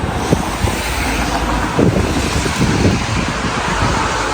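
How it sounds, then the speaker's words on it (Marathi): Strong cold wind blows outdoors at a house being decorated for Diwali, roaring loud and continuous against the microphone with brief gusty surges throughout. "वारा चालू आहे खूप थंडी आहे"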